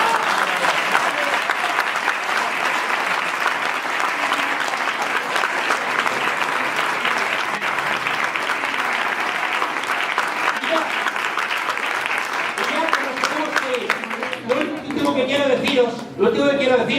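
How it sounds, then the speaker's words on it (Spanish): Audience applause at a political speech in the Spanish Parliament, loud and sustained clapping filling the space for about fourteen seconds before thinning out, with voices emerging near the end. "Ahora sí podéis aplaudir."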